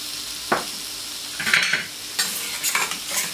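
Calf liver frying on a hot plancha griddle, a low sizzle broken by several sharp scraping stirs and utensil clatters, close and without voices.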